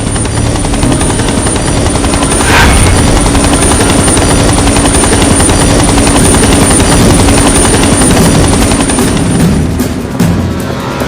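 Loud, steady helicopter rotor and engine roar from a Telugu movie scene, continuous throughout with a brief sharper burst early on.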